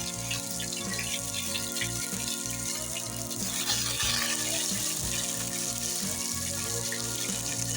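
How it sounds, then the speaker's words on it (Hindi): Garlic ginger paste fries in a cooking pot (handi) for a chicken curry, giving a soft, steady sizzle. Tonal background music plays underneath the whole time. "हल्की फुल्की हम फ्राई करेंगे।"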